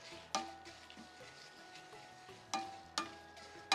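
Curry leaves and tamarind fry in a pan for ivy gourd curry, a soft, faint sizzle broken by a few sharp clinks and stirs of a spoon against the pan.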